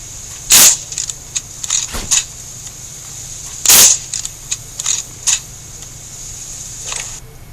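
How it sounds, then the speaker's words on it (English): Sniper rifle shots in the video game Sniper Ghost Warrior 2, two loud sharp cracks about three seconds apart, with fainter clicks and mechanical bolt or reload sounds between and after them. "Pay attention to the shots."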